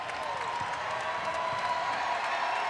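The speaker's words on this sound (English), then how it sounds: "the crowd rises to its feet, appreciating this win for NC State" Home crowd at an NC State Wolfpack women's basketball game against Georgia Tech, cheering and applauding steadily in a large arena, a continuous roar with a commentator's voice faintly over it.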